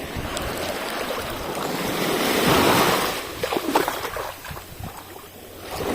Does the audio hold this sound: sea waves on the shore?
yes